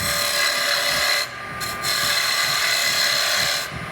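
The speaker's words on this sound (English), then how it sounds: "I want to put a tenon on each end. So I'm going to grab a bowl gouge for that." A bowl gouge cuts a tenon on wood spinning on a lathe, a loud, continuous rasping scrape that briefly eases twice as the tool lifts off the workpiece, with no talk.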